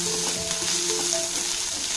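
Chopped capsicum sizzles steadily in a hot frying pan while being lightly stirred, a close, continuous frying hiss with faint tonal scraping underneath and no voices.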